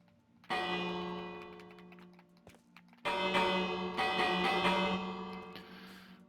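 An alarm bell in a video game is struck twice, each strike giving a bright, resonant clang with long decaying overtones, close and clear.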